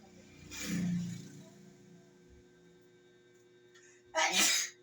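Two sneezes a few seconds apart, the first a voiced burst and the second sharper and louder, with quiet hum between them.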